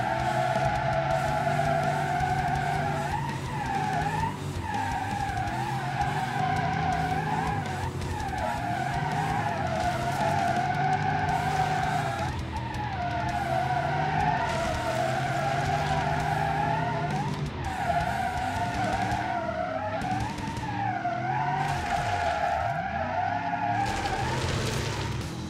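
A heavy all-purpose vehicle skids around a handling circuit in BeamNG.Drive, its engine droning steadily while tires squeal in repeated swooping slides, loud and close throughout.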